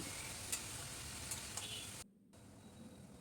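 Spinach being stirred in a pan gives a steady, soft sizzle and rustle of wilting leaves releasing water, with a few faint ticks of the utensil before the sound briefly drops out and resumes quieter.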